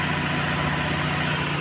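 A Toyota Corolla small-body engine idling as it warms up, a steady, continuous low hum and drone with even vibration throughout, fairly loud and close, with no talking.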